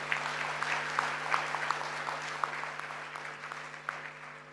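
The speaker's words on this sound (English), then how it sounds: "I wanted to give a quick shout out and a quick round of applause for these fantastic projects that you're doing" Scattered applause from a keynote audience, individual claps popping irregularly over a steady low electrical hum, fairly soft and spread out rather than a full ovation.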